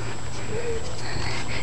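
A dog gives a brief, thin whimper over a steady background hum, close by and fairly quiet.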